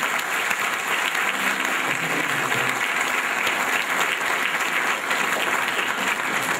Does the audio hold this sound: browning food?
no